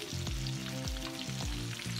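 Pork meatballs fry in hot oil with a continuous close sizzle, while rhythmic scraping pulses, like a spatula turning them in the pan, repeat about every half second.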